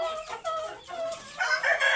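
A Pahari rooster, one of four on a farm, crows in a clear rising call. Other fowl cluck and call close by, with a brighter burst of calls near the end.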